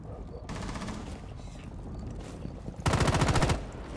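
Automatic gunfire from a shooter match in Rainbow Six Siege, with a loud, rapid burst near the end that stands out against earlier scattered shots, while a voice talks underneath.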